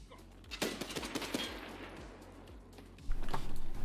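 Automatic gunfire in Escape from Tarkov: rapid bursts of close, sharp shots repeat in a steady rhythm, then a louder, denser burst near the end, with no talking.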